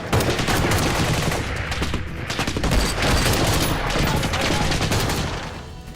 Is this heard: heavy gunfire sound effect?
yes